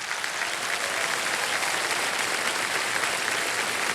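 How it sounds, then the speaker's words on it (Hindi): Steady, dense applause from a large audience, sustained at an even level throughout with no pauses. "एक बार जोरदार तालियां बज जाए इनके लिए।"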